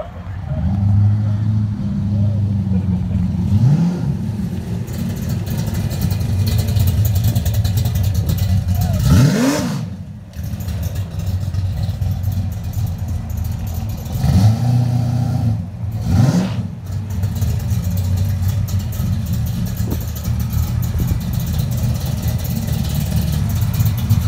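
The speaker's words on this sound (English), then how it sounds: "ain't no denying the sound of a big block" A big block V8 in an El Camino rumbles loud and close, rising in several sharp revs between steady idle stretches.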